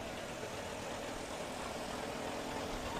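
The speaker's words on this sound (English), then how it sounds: "You can hear that old John Deere 2-cylinder with that big flywheel just a-kicking." Dense, steady engine noise from an old John Deere two-cylinder tractor with a big flywheel rolls by in a parade, a continuous mechanical rumble with no distinct beats, fairly distant, mixed with outdoor background noise.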